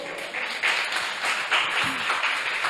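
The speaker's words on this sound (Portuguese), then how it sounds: "Você pode aplaudir ao Senhor?" A church congregation applauds during a Sunday worship service, a dense, steady wash of clapping filling the room, with a brief murmur of voices partway through.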